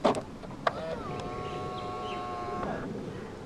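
A 2011 Volvo S80 2.5T locking through its keyless door-handle button: a sharp click and clunk of the locks, then a sustained electronic tone-like whir for a couple of seconds, heard close with a quiet background.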